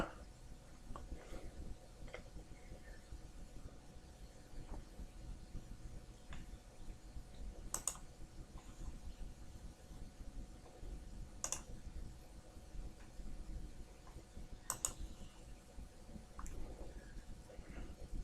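Computer mouse clicks on a slow i5 machine with 16 GB of RAM, a few sharp isolated clicks spaced several seconds apart over a steady low background hum.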